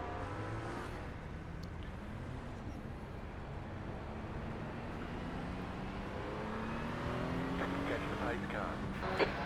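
GT3 race cars hold a steady engine drone during a rolling start behind a safety car at Long Beach in iRacing, a continuous moderate hum with shifting pitch and a driver talking over it.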